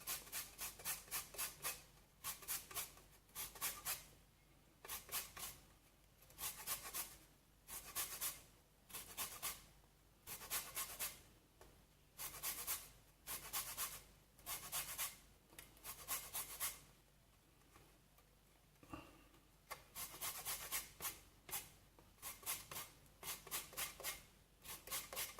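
Lime zest being grated for crab cakes, a quiet rhythmic rasping of short scrapes repeating steadily, with a brief pause before the strokes resume.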